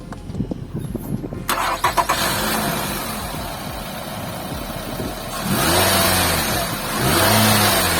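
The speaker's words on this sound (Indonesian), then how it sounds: "Dan tentunya kita pengen coba denger dulu suara mesinnya kayak apa sih gitu kan." A Nissan Teana luxury sedan's engine cranks and fires into life, settling into a smooth idle, then rises in two revs, heard from close by with no talk over it.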